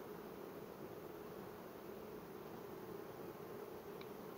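Honeybees buzzing at a hive, a faint, steady, even drone that continues without a break and with no voices over it.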